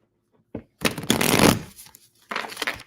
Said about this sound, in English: This deck is very, very thick, very, very thick. So when I shuffle